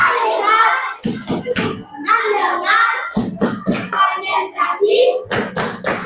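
Children in an Indonesian classroom doing the rhythmic 'tepuk fokus' clap chant: a run of sharp, close hand claps in a patterned rhythm mixed with chanting young voices.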